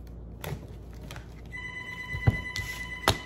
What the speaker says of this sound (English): I don't know why somebody is calling me on that phone.